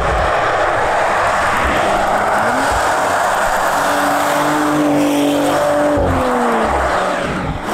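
A Porsche Macan Turbo SUV passes outside, loud and close. Its engine roars with a rising then falling pitch as it sweeps by over several seconds, and no one speaks.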